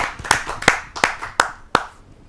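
At a Hindi poets' gathering, five sharp, separate hand claps land in a slow, even rhythm about a third of a second apart, close and clear with no talk over them.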